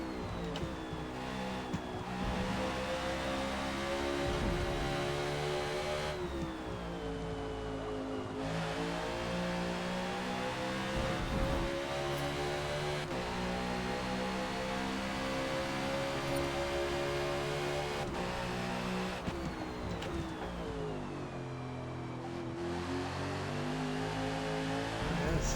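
NASCAR stock car engine in Forza Motorsport at Watkins Glen, revving hard with a dense, sustained roar and repeated shifts and pitch climbs through acceleration, loud and continuous.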